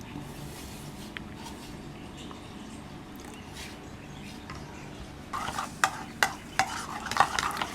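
A spoon stirs a thick gram flour coating batter mixed with soy sauce and vinegar, first as a soft steady scrape, then as louder, sharper clacks and sloshes in quick succession near the end.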